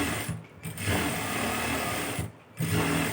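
A sewing machine double-stitches lace onto a chudithar sleeve with a close, continuous whirring hum. It briefly slows twice before running on at full speed.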